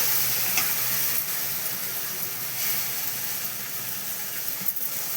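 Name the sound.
onion and tomato paste sautéing in a pan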